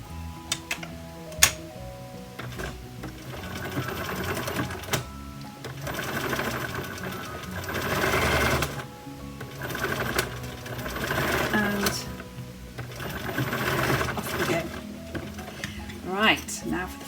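A sewing machine stitches a lined drawstring bag in bursts, its rapid mechanical ticking rising and pausing between seams, close and steady.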